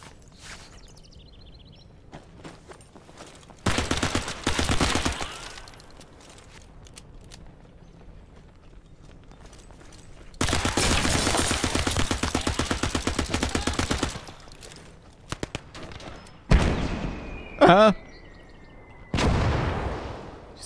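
Gunfire in the WWII strategy game Gates of Hell: Ostfront: several long bursts of machine-gun fire, separated by quiet stretches of low ambience, followed by shorter cracks and a louder blast near the end.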